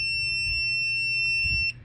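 An electronic jewelry tester touched to a stone emits a steady, piercing high beep that holds for almost two seconds, then cuts off, loud and close over a faint low background hum.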